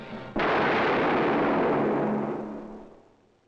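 One loud, booming gunshot rings out at close range in an old 1962 drama, followed by a long rumbling tail that fades over about three seconds.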